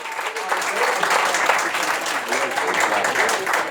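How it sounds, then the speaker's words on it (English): Sustained applause from a party audience cheering a comedian at a private party in Rialto, CA, a dense steady wash of clapping with some voices mixed in throughout. "Start clapping now, ladies and gentlemen, start clapping now."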